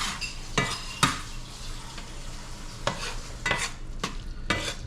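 Ground meat stirred with a spatula in leftover grease in a pan for a keto crustless pizza, with a steady soft sizzle and several sharp scrapes and knocks of the utensil against the pan.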